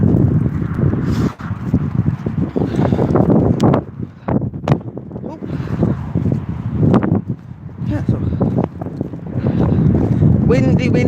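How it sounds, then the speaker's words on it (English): Strong wind buffets the microphone outdoors on a walk with a loud, continuous roar and gusty rumbling, while a voice talks loudly over it. "The winds are really bad here"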